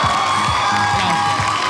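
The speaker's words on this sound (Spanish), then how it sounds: "¡Aplausos, Luna, por favor!" An audience at a swimwear runway show cheers and whoops loudly and continuously, with rising shouted voices over a dense crowd din and no clear talking.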